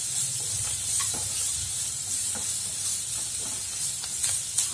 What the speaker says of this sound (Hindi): 2 साबुत लाल मिर्च लाल डाल दें और 4 से 5 काजू, और इनको भी इसी के प्याज के साथ में भून लें